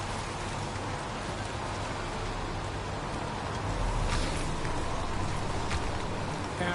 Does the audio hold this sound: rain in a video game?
yes